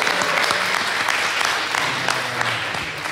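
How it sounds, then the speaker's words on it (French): Lively audience applause at a live podcast show in Rennes, dense clapping sustained throughout with a few sharper individual claps standing out close by. "On va déjà t'applaudir, Alexandre."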